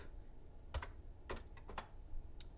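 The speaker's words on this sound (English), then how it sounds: "So I type that in and then push enter." Keys on a computer keyboard are tapped in a few quick, isolated clicks, faint and close by, with no talking.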